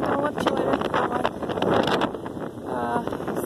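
Steady wind buffets and rumbles across the microphone on an English farm, with faint voices and what sounds like distant water or a boat underneath.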